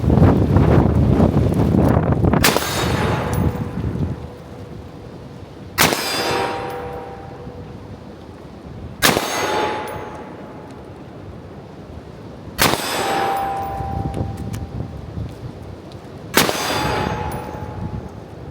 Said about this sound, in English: Shoot 5 rounds out of the Steyr AUG